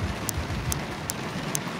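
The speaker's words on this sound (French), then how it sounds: "il y a l'orage qui arrive, il commence à pleuvoir" Rain begins falling as a thunderstorm arrives at a home where a horse is kept, a soft pattering hiss with four sharp, evenly spaced drip-like ticks and no speech.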